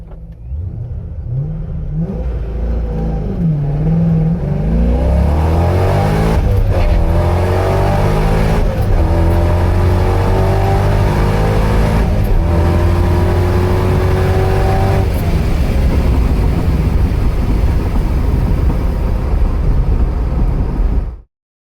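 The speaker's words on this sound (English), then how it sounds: "I'm using the sound from the supercharged C5, and I think you'll agree you can definitely hear the difference in power" A supercharged C5 Corvette engine revs hard and loud, the pitch climbing through several pulls and then holding a sustained roar with no talking.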